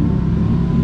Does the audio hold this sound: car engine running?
yes